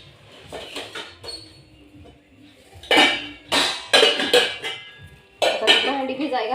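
A pile of cooking pots and dishes is handled in a home kitchen, with loud bursts of metal clanking and clattering in clusters between pauses while someone talks nearby.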